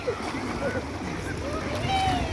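Water splashes and churns steadily as someone swims in a river, with voices and outdoor noise mixed through the scene.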